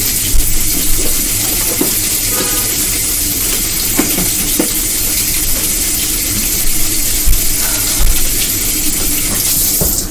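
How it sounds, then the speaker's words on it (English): Water runs from a tap into a container, a continuous close rushing and splashing hiss that stays steady and fairly loud throughout. "Filling my water back up so I can put it in the freezer."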